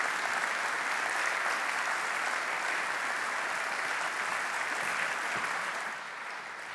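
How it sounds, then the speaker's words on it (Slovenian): A large audience at a university centenary ceremony for electrical engineering in Ljubljana applauds loudly and steadily with dense, sustained clapping, which eases slightly toward the end. "profesorja doktorja Gregorja Dolinarja, ki mu boste gotovo glasno in slovesno zaploskali."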